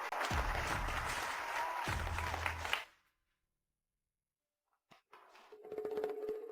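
A studio audience claps to welcome the first female guest onto a show stage, a burst of applause for about three seconds that cuts off abruptly into silence, followed by faint, scattered sounds.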